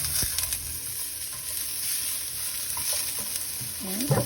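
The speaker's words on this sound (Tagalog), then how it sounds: "Halu-haluin natin." Canned sardines frying in a little oil in a pan give a continuous close sizzle, with a spatula scraping and stirring through it and no talking.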